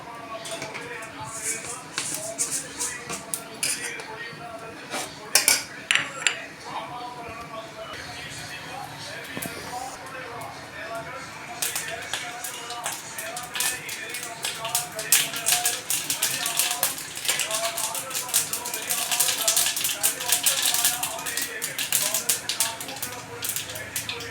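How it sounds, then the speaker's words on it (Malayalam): Mustard seeds splutter in hot oil in a home kitchen, a dense stream of sharp crackling pops building and growing busier over time, with a voice talking in the background. "എണ്ണ ചൂടാകുമ്പോൾ കടുകിട്ട് പൊട്ടിക്കാം."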